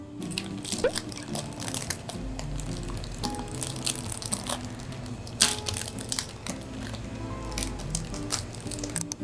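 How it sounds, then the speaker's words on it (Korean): Plastic wrap over a flower basket being cut and crinkled during a flower-arranging session, with dense crackling, crumpling rustles and sharp snipping bursts throughout, close and continuous. "이 불필요한 비닐들을 이 바구니 위에 선을 깨끗하게 맞춰서 잘라볼게요"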